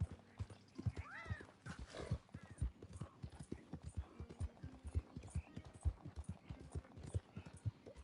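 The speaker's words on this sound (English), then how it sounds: "Hogtie, dragging a horse." A horse is hogtied and dragged in the Red Dead Redemption II video game, with rhythmic hoof clops and thuds repeating steadily, a couple of whinnies early on, and faint background noise.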